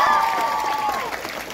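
Audience at a World Heart Day cyclothon and walkathon event applauding with some cheering, a brief burst of clapping with a high voice rising over it.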